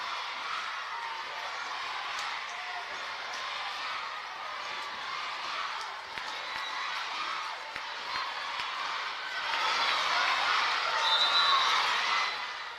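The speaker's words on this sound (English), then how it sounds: "Give you a little crowd mic there with the 530 elementary students chanting UAF" About 530 elementary students chant UAF during a break in a college volleyball match, a distant crowd roar in a gym that swells louder toward the end.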